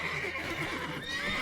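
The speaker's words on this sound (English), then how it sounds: "Okay, horses." A horse in the video game Witcher 3 gives a short whinny, faint and somewhat distant against a steady game ambience, with no talk during it.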